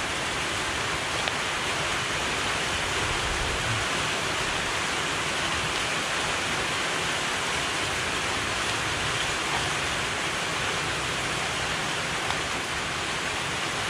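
Heavy rain pouring steadily in a continuous dense roar at an outdoor fishing spot, loud and unbroken, with no voices.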